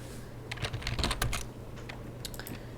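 Someone types a short command on a computer keyboard: a quiet, close patter of light key clicks in a brief irregular burst over a soft low hum.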